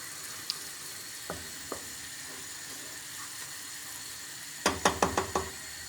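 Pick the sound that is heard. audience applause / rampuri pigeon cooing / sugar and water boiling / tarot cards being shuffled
sugar and water boiling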